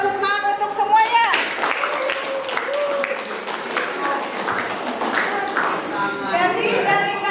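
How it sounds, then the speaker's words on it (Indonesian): Applause for a group in a classroom, dense clapping mixed with children's chatter and shouts, continuous throughout and fairly close. "Ya, berikan tepuk tangan untuk semuanya"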